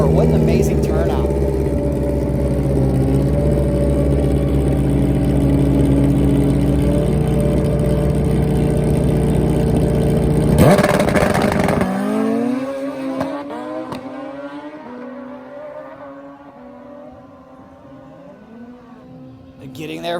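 Suzuki Hayabusa drag-racing motorcycles, one with a wheelie bar, blast down the strip with a loud sustained engine roar for about ten seconds, then the sound cuts sharply to a quieter trailing whine and distant rumble.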